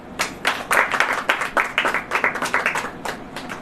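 Church congregation clapping hands together in a steady rhythm, a run of sharp, evenly spaced claps close by that quickens slightly toward the end.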